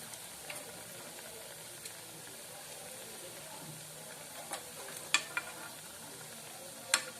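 Balushahi pastries fry gently in a pan over a low gas flame, giving a faint, steady hiss with a few soft, sharp clicks of a utensil against the pan.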